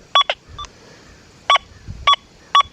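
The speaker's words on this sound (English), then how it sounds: "I'll sweep this sterling silver ring back here solo" Deus 2 metal detector with HF2 coil sweeping over a sterling silver ring, giving four short, clear electronic beep tones in an irregular rhythm, each pair-like burst alone against quiet background hiss.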